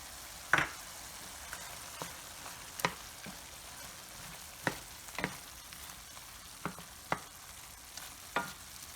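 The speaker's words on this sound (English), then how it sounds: "I like to mix it around first to get everything coated." Spoon or spatula stirring Cajun pasta and seasonings in a pan, heard as sparse, quiet scraping clicks and scuffs spaced irregularly over a soft, steady background with no talking.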